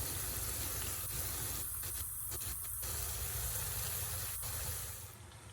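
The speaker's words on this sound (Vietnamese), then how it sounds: "Mình chiên nó vàng vậy là được rồi nè." Potato sticks deep frying in oil give a steady, dense hiss of bubbling and sizzling throughout, fairly close and unbroken, softening slightly at the very end.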